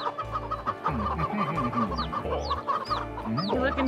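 Several chickens cluck and call close by in a farmyard, with rising squawks and low repeated clucks in a steady back-and-forth pattern, no talking.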